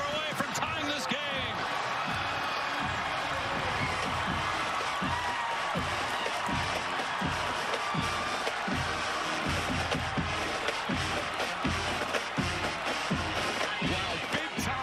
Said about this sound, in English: And this crowd absolutely loving it as they come alive.